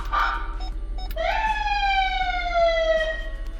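A loud police siren wails in a descending sweep, starting with a short yelp then a long falling tone, close by.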